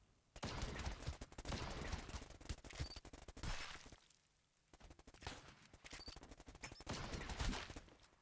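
Rapid bursts of automatic gunfire in the multiplayer shooter game Brutal Grounds, dense and loud, a brief lull near the middle before the shooting resumes just as heavily.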